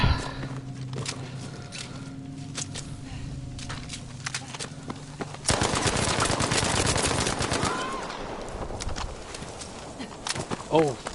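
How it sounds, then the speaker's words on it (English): An artillery strike in Battlefield V's Firestorm mode: heavy rumbling barrage with rapid popping bursts swelling midway over ongoing gunfire and battlefield noise, while a voice talks now and then. "Oh, artillery strike."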